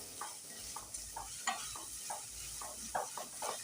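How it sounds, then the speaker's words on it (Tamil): Tomato masala gravy for chicken roast is sautéed in oil in a pan: quiet, rhythmic spatula scrapes and stirs repeat every half second or so over a faint, continuous sizzle. "நான் இப்போ இதை நல்லா நம்ம வதக்கி எடுத்துக்கலாங்க தக்காளியெல்லாம் நமக்கு நல்லா வெந்து வரணும்"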